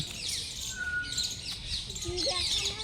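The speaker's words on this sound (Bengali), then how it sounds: "এদিকে পাখির আওয়াজ তো আমরা শুনতেই পাচ্ছি, কিচিরমিচির" Birds chirp and tweet in scattered bursts against a soft outdoor background, with thin whistled calls coming from a moderate distance.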